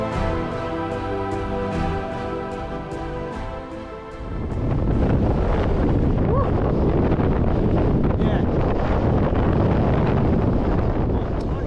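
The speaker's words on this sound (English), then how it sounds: "35, 40 mile an hour headwind now on the last run up to the lock" Strong headwind on a mountain bike ride in Scotland, a loud continuous buffeting roar over the microphone, dominating the whole stretch after an opening with a steady tonal hum.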